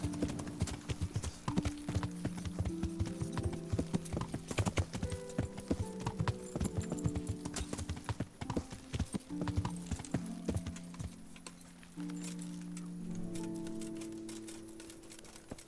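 Horse hooves clip-clopping at a steady trotting rhythm in Kingdom Come: Deliverance, fairly close and continuous, with game ambience and a few soft background sounds.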